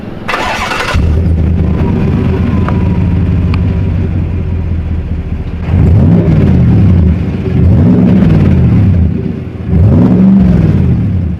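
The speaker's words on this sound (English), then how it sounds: "The dual exhaust, which is a Chevrolet Performance Exhaust. It sounds really good." A 6.2L Chevrolet Silverado LTZ with a Chevrolet Performance dual exhaust, cold air intake and tune starts up with a loud burst, settles into a deep idle, then gets three sharp revs that rise and fall, close and loud.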